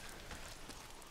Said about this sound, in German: Oh, verdammter Regen.